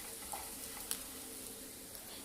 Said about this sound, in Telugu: క్రిస్పీ కార్న్ వేసుకున్నాక బాగా ఫ్రై చేసుకోవాలి